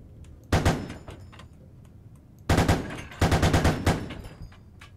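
Gunfire in the video game Squad: a single sharp burst, then after a pause two close rapid automatic bursts, loud and near, with faint background between.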